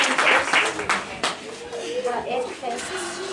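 A congregation claps hands for Jesus at a church gathering, the sharp hand claps strongest early on and then thinning out under a voice and other worship sounds.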